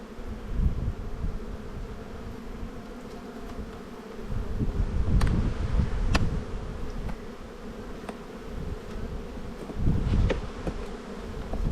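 Honey bees buzz steadily at an open spring beehive during a brood inspection, a dense continuous hum with a few sharper individual passes close by, and no talking.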